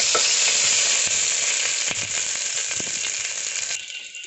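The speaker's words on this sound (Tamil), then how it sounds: "இப்போது கருவேப்பிலையும் வெங்காயம் போட்டுக்கலாம். நல்லா மிக்ஸ் பண்ணிக்கலாம்." Onions and curry leaves fry in hot oil for rasam, a loud steady sizzle filling the whole stretch, with a spoon scraping and stirring the pan now and then, close up and without any talk.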